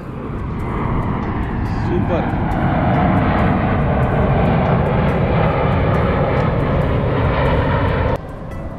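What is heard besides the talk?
airplane landing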